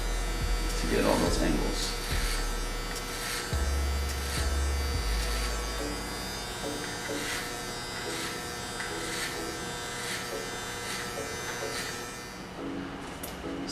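Electric hair clippers buzz steadily throughout a clipper-over-comb fade haircut, a close continuous hum with someone talking over it.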